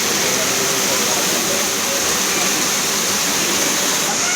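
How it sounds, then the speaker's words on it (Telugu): A waterfall at a temple site roars in a loud, unbroken rush of falling water, dense and close, with a voice speaking beneath the noise. "ఈ జలపాతం అయితే చాలా బాగుంది"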